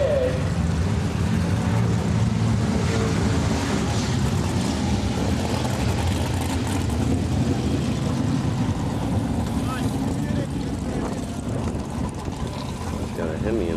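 A 440-engined Plymouth Barracuda muscle car at an NHRA Englishtown drag strip rumbles with a continuous engine roar and crowd noise, heard at a distance under wind noise and a track announcer's voice.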